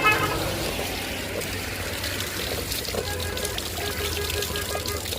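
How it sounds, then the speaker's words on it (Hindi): Mountain spring water pours steadily from a tiger-mouth spout in the hills of Uttarakhand, a continuous close splashing rush with no break. "ये देखिए ऐसा निकलता है हमारे पहाड़ों में बाघ के मुख से भी पानी।"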